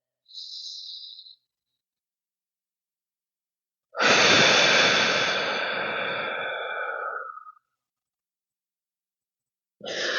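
Slow breaths from a person doing a rock-back alternate breathing exercise: a short faint inhale, then a long, loud, airy exhale lasting several seconds, with another breath starting at the end.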